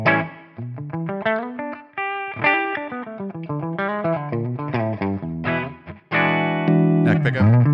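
Electric guitar run through a Quad Cortex preset built on neural captures of an Ecstasy amp, played on the neck pickup: overdriven, effects-laden chords and riffs with reverb, continuous and up front with no talking.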